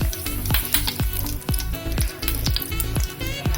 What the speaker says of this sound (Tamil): எண்ணெய் ஹீட் ஆகிடுச்சு. நான் கடுகு ஆட் பண்ணிட்டேன்.